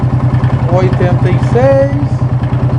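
A Yamaha Fazer 250 motorcycle engine runs steadily up close with an even, rapid pulsing beat throughout, while someone speaks over it.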